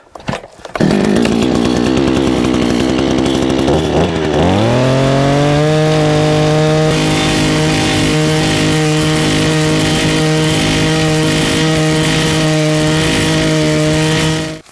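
An ECO gas-powered earth auger pull-starts with sputters, then revs up into a loud, steady two-stroke engine drone that holds while boring a post hole for a mailbox, close and continuous until it cuts off.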